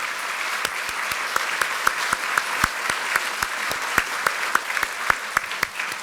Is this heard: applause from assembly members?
yes